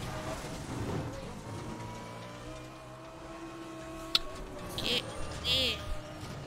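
A racing car in Need for Speed The Run, driving through the Rockies, engine humming steadily at close range with shifting tones and a few sharper skids or bumps near the end.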